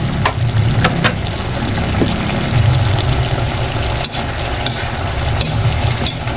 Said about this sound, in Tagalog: So, hayaan muna natin kumulo hanggang sa maluto po sila lahat.